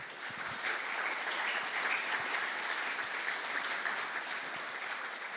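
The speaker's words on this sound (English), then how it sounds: "So, round of applause for these amazing companies and products." An audience at a security conference opening in Marbella, Spain, applauds in a dense, steady wash of clapping that holds evenly from start to finish with no voices over it.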